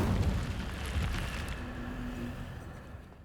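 The Incendio fire spell in Hogwarts Legacy goes off as a loud, rumbling burst that fades away over a few seconds.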